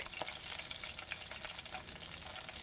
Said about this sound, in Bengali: দেখুন এখানে আমি ফোড়নে দুটো শুকনো লঙ্কা দিচ্ছি